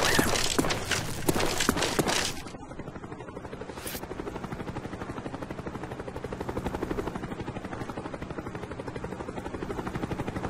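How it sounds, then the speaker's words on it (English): A Cobra attack helicopter in Call of Duty Black Ops multiplayer on the Crisis map gives a steady, fast rotor chop that holds loud and continuous after a burst of gunfire and impacts fades. "Friendly Cobra inbound."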